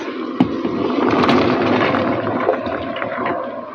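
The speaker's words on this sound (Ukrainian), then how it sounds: "І тепер я сюди всипаю гарбуз." Pumpkin pieces tipped into a boiling sugar marinade with citric acid, a loud close rushing splash and bubbling that swells and then slowly settles, with no talking.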